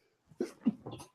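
A single person sneezes nearby, a short sharp burst with a quick intake and explosive release, heard alone in a quiet room.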